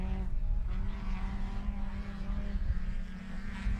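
A rallycross car racing through the joker lap at a Barbados international event, a loud rough engine drone with rumbling and gravelly tire noise, steady and fairly near.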